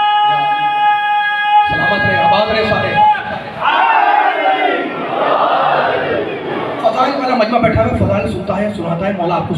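A large crowd at a religious majlis shouts a slogan together in powerful, sustained unison after a lone voice leads, the roar loud and close and filling the hall.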